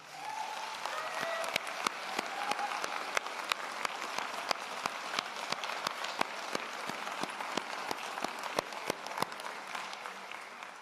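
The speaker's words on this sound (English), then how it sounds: "Graduates, a round of applause," Graduates clap at a university convocation ceremony, a long, steady wash of applause from a large hall with distinct individual claps snapping out close by throughout.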